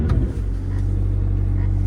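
A 2020 McLaren GT in Silica White starts up from the push button: a quick churn at the start, then the engine catches and settles into a loud, close, steady low rumble at idle.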